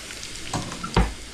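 Garlic frying in ghee with panch phoron and dried chili in a pan, a soft steady sizzle broken by two short stirring scrapes, close and fairly quiet.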